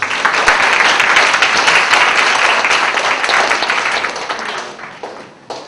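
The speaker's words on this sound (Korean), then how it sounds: "발표하신 두 분께 큰 박수 부탁드리겠습니다" A large conference audience claps loudly and steadily for several seconds for two presenters before the applause thins out and fades.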